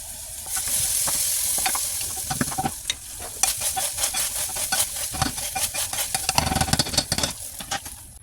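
Ground beef sizzles in a pot while a spoon and potato masher stir and mash it, with close, irregular scraping and clacking strokes over a steady frying hiss.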